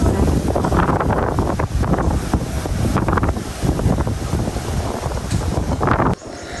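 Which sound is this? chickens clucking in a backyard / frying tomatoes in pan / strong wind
strong wind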